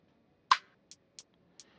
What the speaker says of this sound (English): I used a hi-hat and a snare